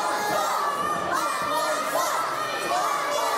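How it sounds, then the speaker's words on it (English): A wrestling crowd taunts and chants together in a loud, sustained roar of many voices, the mass shouting rising and falling slightly in waves throughout. "And the crowd taunting Joey Osborne, saying it was only a two."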